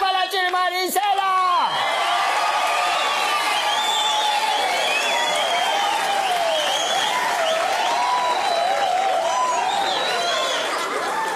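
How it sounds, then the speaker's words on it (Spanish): A live audience at a gala runway show applauds and cheers for Chili Marisela, with sustained clapping and whoops that stay loud and steady throughout and bursts of excited shouting mixed in. "¡Aplausos para Chili Marisela!"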